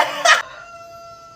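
A brief, loud burst of rooster crowing cuts off quickly, leaving a quiet tail with a faint steady tone.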